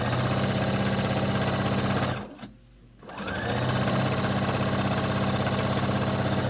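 A sewing machine stitches a cooling scarf with a loud, rapid mechanical chatter, pausing briefly in the middle for a back tack before running steadily again, with no talking.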